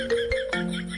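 A mobile phone rings with an incoming call, giving off a steady, close electronic ringtone of sustained tones that shift pitch partway through, with no one talking over it.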